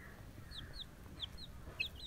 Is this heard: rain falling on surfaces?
no